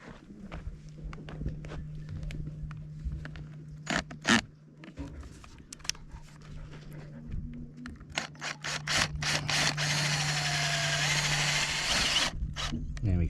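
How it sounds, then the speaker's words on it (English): Power drill boring a hole into a water-filled pipe on an off-grid goat farm in central Portugal, with a steady motor hum and rising whine building into loud sustained drilling, broken by clicks and handling noises. "I'm going to drill a hole in the centre there, in the centre of the hole here."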